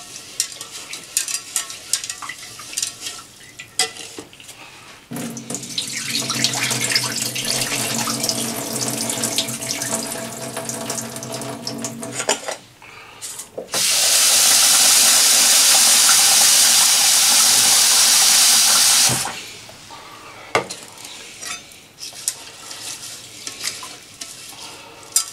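Food is stirred and rinsed in water in a kitchen sink until the water runs clear, with splashing and churning swishes followed by a long, loud burst of tap water, then quieter handling.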